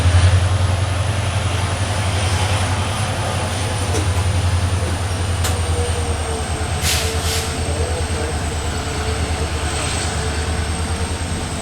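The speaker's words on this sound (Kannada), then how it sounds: "ಟ್ರೈನ್ ಜರ್ನಿನಲ್ಲಿ ಡೀಸೆಲ್ ಇಂಜಿನು ಮತ್ತು ಮಳೆ ಇದ್ದರೆ ಟೆಸ್ಟ್" A diesel-hauled passenger train on the Yesvantpur–Sindhanur run via Ballari rolls steadily, with a loud low engine drone, continuous wheel-and-rail rumble and faint clanks from inside a general coach, and no talking.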